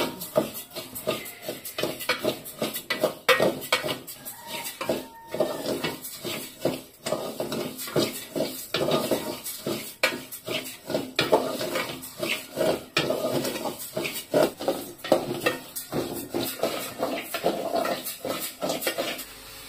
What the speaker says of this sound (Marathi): तर त्यासाठी इकडे तांदूळ भाजून घ्यायचे आहेत पहिल्यांदा